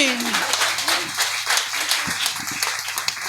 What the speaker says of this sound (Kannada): ನಂಬೋರು ಮಾತ್ರ ಜೋರಾಗಿ ಚಪ್ಪಾಳೆ ತಟ್ರಿ